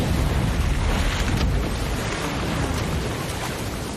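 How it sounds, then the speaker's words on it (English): Ocean waves crashing in the film Cast Away, a loud, broad surging wash of surf and wind that swells early and slowly eases, with no voices over it. "Poor guy getting waves to the face, though."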